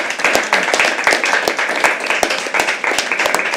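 An audience at a live poetry open mic at The Habitat claps steadily and fairly loudly. The sound is a dense patter of many hands, with sharper individual claps standing out throughout.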